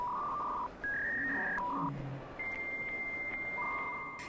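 A dial-up modem connects to the internet with a quick run of dial tones followed by steady, shrill handshake tones and warbling, heard at moderate volume with a faint hiss underneath.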